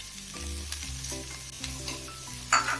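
Onion, cabbage and capsicum stir-frying in a pan for restaurant-style chicken fried rice, with a steady sizzle broken by repeated spatula scrapes and stirs, close and fairly loud, ending in a brighter burst of frying.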